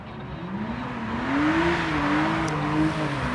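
A drift car's engine revs hard through the third corner of a Viking Cup drift competition run, a loud, sustained, close engine tone climbing steadily in pitch and holding high, with no voices.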